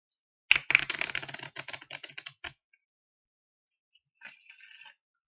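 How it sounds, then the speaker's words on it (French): A deck of playing cards being shuffled for a magic trick, a quick close burst of crisp riffling clicks followed after a pause by a shorter soft riffle. "Voilà, le paquet est mélangé."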